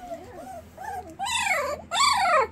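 A multi-generation Australian Labradoodle puppy making close whiny, growly vocal sounds in a few rising and falling bursts, the last two louder and longer, with no talk.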